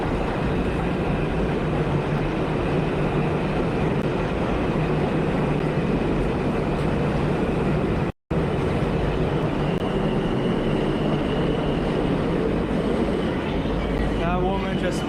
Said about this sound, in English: here's a Brooklyn-bound R train making its way into the station.